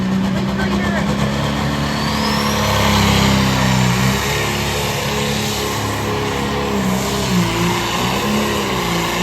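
A tractor-pull engine roars continuously at high revs, loud and sustained with shifting pitch, while voices talk over it.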